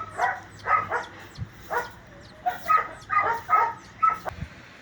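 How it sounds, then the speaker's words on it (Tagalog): Several dogs bark in bursts, some sharp and high, others yipping, overlapping in an irregular rhythm at moderate distance. "Maraming aso dito, kaya maingay."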